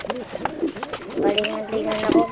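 Pet pigeons cooing close by in repeated soft, throaty bursts, several overlapping calls with light rustling, while a person talks intermittently.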